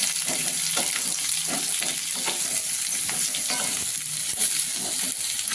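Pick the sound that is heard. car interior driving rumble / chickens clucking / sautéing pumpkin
sautéing pumpkin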